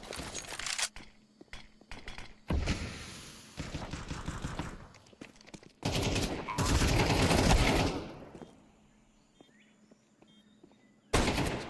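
Rapid bursts of pistol gunfire during a competitive esports shooter match, with repeated clusters of close, loud shots and short pauses between them, fading into quieter game ambience in the gaps.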